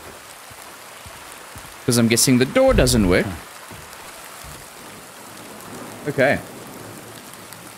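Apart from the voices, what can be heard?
rain falling in a garden at night, from video game Silent Hill 2 Remake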